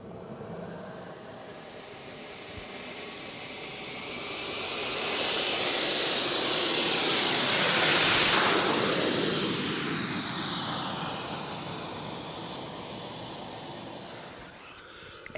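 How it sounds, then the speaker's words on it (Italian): A light aircraft's engine swells as the plane takes off, a broad roar that rises to its loudest near the middle and then fades into the distance, with no talk over it. "E lo avete visto, è decollato"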